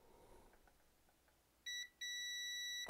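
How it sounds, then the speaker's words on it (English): An AstroAI 6000 digital multimeter in continuity mode gives a loud, steady electronic beep, one short tone followed by a longer sustained one after quiet handling noise. "And when you get continuity, you get a sound."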